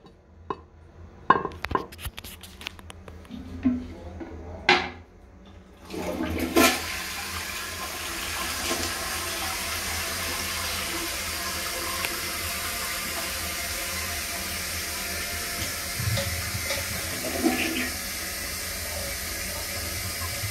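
A toilet in a men's restroom at a music center, fitted with a replacement tank, is flushed after a few clicks and clunks of the handle, releasing a loud, steady rush of water that runs on for many seconds as the tank refills.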